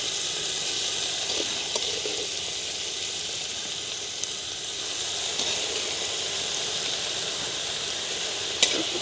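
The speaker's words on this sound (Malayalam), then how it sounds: "ഇനി നമുക്ക് നല്ലപോലെ ഈ നെയ്ക്കകത്തിൽ ചെറുതായിട്ടൊന്ന് ഇളക്കി കൊടുക്കാം" Cooked papaya stirred in ghee in a pan, giving a steady close sizzle and frying hiss with soft scraping stir strokes throughout and a few small clicks, no talk.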